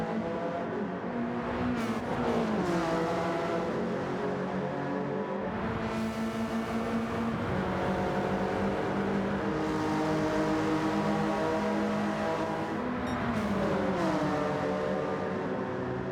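Gr. 4 race cars lapping Mount Panorama in a racing video game, engines droning steadily and loudly throughout, with repeated rising revs and gear shifts as cars accelerate through corners.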